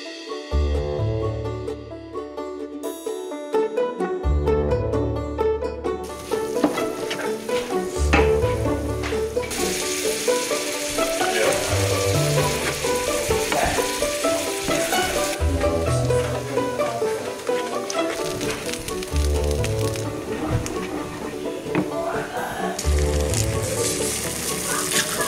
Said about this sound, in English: I'm gonna go ahead and start the other hash browns over here